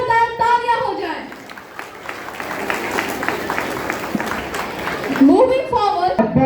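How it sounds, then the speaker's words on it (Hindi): An audience claps for student performers at a school Independence Day celebration. Dense, steady applause fills the middle of the clip, with a voice speaking over the start and again at the end. "हमारे कलाकारों के लिए जोरदार तालियां हो जाए"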